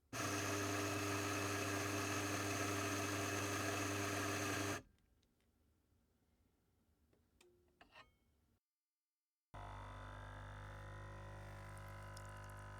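Mahlkönig espresso grinder running loud and steady for about five seconds while being dialed in, then stopping to quiet clinks and handling noises, followed after a brief silence by another sustained burst of grinding.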